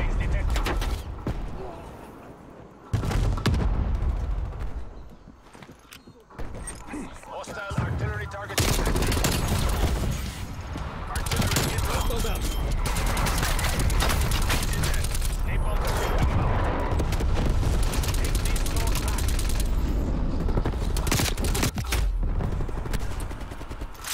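Rapid, dense gunfire from a gun in Black Ops Cold War, a Combined Arms Assault match on Cartel, crackling in sustained loud bursts with short gaps, layered with explosions and mechanical clatter, while a voice talks over it at times.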